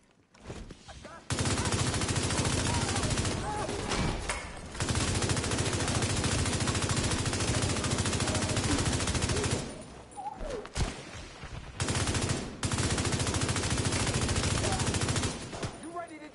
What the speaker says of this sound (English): Bullets flying there.